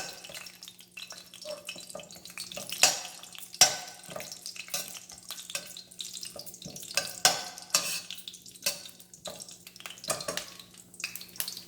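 Cinnamon frying in oil for a prawn gravy gives a soft, crackling sizzle with scattered pops and spatters and a few louder clicks, heard close over a faint steady hum.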